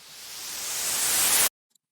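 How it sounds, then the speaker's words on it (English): A noise riser sweeps upward, steadily building in brightness and loudness for about a second and a half before cutting off sharply into silence. "At the end of the drop, it has a sweep up,"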